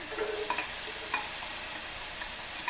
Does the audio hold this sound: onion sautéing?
yes